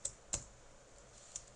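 A name being typed on a computer keyboard: three soft, isolated key clicks, quiet and close, over faint room noise.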